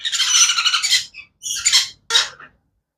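Super red factor sun conure parrots let out three loud, harsh squawks up close, the first long and raspy, then two shorter bursts, before falling silent.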